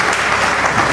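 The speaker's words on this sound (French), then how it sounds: "Est-ce qu'on peut applaudir pour les équipes?" Crowd applause at a launch event for a Congolese theatre channel, as the audience claps for the teams; a dense, steady wash of clapping fills the whole brief moment with no speech over it.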